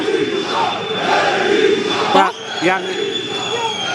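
A large protest crowd of Democratic Party demonstrators marching through the streets toward Wilson Square amid thrown molotov cocktails, with a dense continuous roar of voices and shouting and a sharp bang midway.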